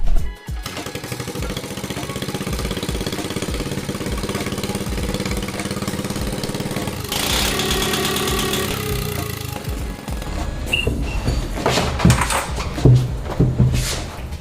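A drift kart's small engine runs at a steady, loud, close idle with a rough chugging pulse, briefly revving higher midway before settling, then ending in clatter and knocks.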